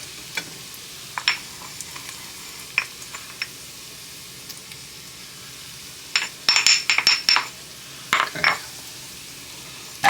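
Ground spices with bay leaf hit a hot pan for a homemade spaghetti sauce, giving a soft sizzle under sharp clinks and scrapes of a stirring utensil against the metal, with a cluster of rapid clatters midway.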